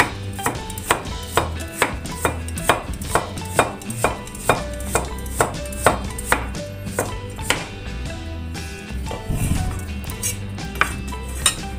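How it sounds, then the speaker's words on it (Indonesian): A knife slices carrots on a cutting board, a fast, even run of sharp close knocks, about two per second, slowing and fading near the end. "Ini wortelnya diiris, mengiris wortelnya menurut selera juga ya."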